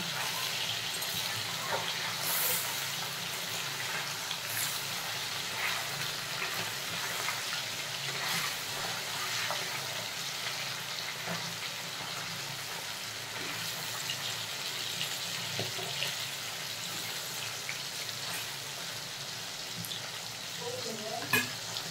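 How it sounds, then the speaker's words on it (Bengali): Pieces of hilsa fish fry in a pan for a mustard hilsa dish, giving a steady close sizzle throughout, with occasional scrapes and clinks of a utensil turning the fish. "মাছটা এক পিস ভাজা হয়ে গেছে, আরেক পিস উল্টে নেব।"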